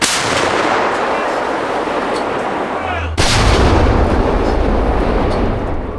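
A Ukrainian tank's main gun fires a shell in a forest, a single sudden heavy blast followed by a loud, rolling rumble that lingers under the steady background noise.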